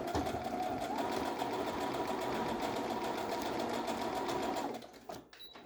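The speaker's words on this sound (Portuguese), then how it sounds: "E vou passar uma costurinha de assim" A sewing machine stitches a seam through overlapped fabric on a pair of panties, running in one continuous whirring burst of about five seconds, then stopping with a few small clicks.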